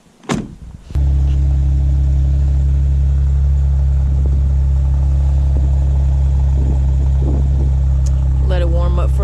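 A Jeep Wrangler engine starts and then idles steadily while warming up on a chilly day, a loud, constant low rumble close by, with faint clicks and brief sounds over it.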